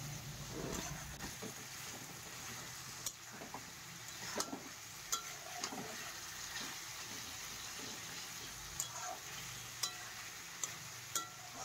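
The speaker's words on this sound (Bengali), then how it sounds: "এবার আমি এখানে দিয়ে দিচ্ছি পেঁয়াজগুলো। তো পেঁয়াজ দিয়ে ভালোভাবে এটা কষাতে হবে।" Onions frying in a pan for a chicken curry, a faint low sizzle with occasional soft stirring knocks and scrapes at irregular intervals.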